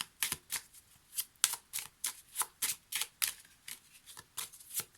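Lenormand oracle cards being shuffled by hand, a quick regular series of about sixteen crisp riffling bursts, close and clear with no talking.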